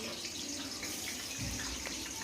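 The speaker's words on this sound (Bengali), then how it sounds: "আর এই তেলের মধ্যে আমি এই আলুগুলোকে দিয়ে দিয়েছি" Potatoes fry in hot oil with a constant close-up sizzling hiss, broadband and even throughout the short stretch, with no voices.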